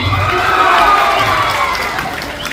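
Jatra folk theatre audience applauding and cheering at a live show, a dense burst of clapping and shouts swelling then easing over a few seconds.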